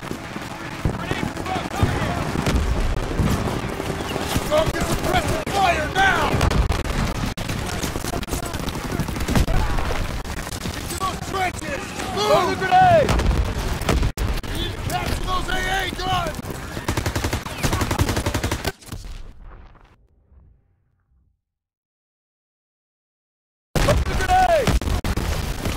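Rapid machine-gun fire and repeated gunshots crackle with booming anti-aircraft guns in a Call of Duty: WWII battle, with voices shouting over the din; the noise cuts to near silence for a few seconds before resuming.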